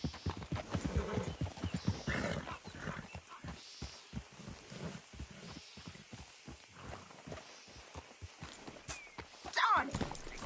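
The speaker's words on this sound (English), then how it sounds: "Damn horse acting up on me." Horse hooves clip-clop steadily in Red Dead Redemption 2 as the mount acts up, with a brief whinny near the end and someone talking over the hoofbeats throughout.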